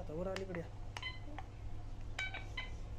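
A Nokta Makro Legend metal detector powering on: a quick series of electronic beeps and tones, some rising, close and clear over faint room noise.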